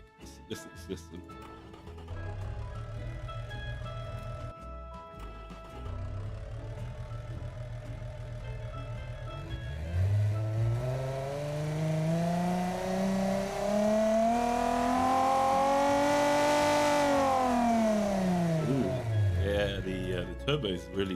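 Turbocharged car engine in a car design video game revving up and down, with rising and falling pitch sweeps over a steady drone, loud and continuous throughout.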